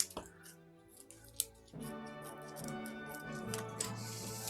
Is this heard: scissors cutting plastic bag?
yes